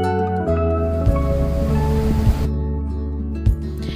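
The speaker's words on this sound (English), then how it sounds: "it's an artificial waterfall on the Rideau River in Ottawa" Hog's Back Falls, an artificial waterfall on the Rideau River in Ottawa, pours in a steady, loud roar of rushing water, continuous and close, with a few brief bumps over the wash.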